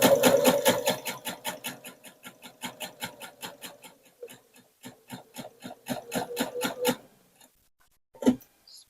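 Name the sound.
sewing machine stitching a quilt seam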